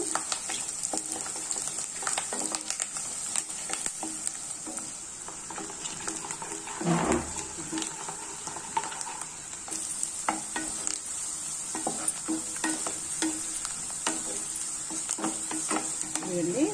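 Onions and curry leaves sizzle in a pan for masala stuffed brinjal curry, with a steady frying hiss and intermittent scraping and stirring clatter close by, and a brief louder clunk partway through.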